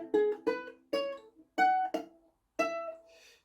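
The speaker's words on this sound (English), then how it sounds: "trying to move your hand all over the uke. So start at the top and go back here" Ukulele played with the fretting hand moving up and down the neck: six separate plucked notes or chords in an uneven rhythm, close and clear with gaps between them, no talking.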